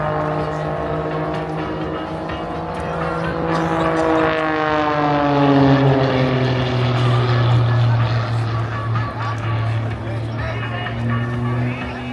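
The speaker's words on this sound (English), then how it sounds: "Now watch it as he pulls the power back on the aircraft and just hangs in the air with the propeller" A propeller aerobatic plane at an airshow throttles back and hangs in the air, a loud droning engine whose pitch slides down and then holds, under a commentator talking over the public address.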